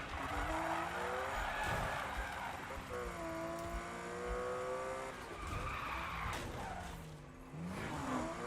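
Tires screech and skid repeatedly as a car slides under hard handbrake in the 2015 Need for Speed racing game, long wavering squeals over steady engine drone, loud and close throughout.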